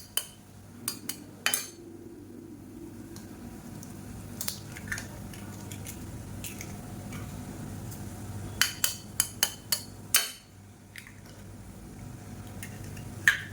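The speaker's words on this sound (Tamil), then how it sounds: "இப்போ ஒரு 3 முட்டை வந்து உடச்சி சேர்த்துக்கலாம்." Three eggs cracked one by one into a pan of sautéed tomatoes: a series of sharp taps and clinks over a low, steady kitchen hum, with no talk.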